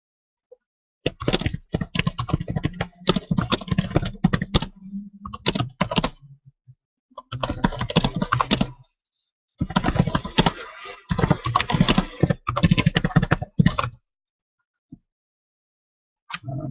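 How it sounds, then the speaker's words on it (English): Typing on a computer keyboard comes in quick bursts of close, crisp key clicks separated by short pauses, with no talking. "I'm typing while I'm talking."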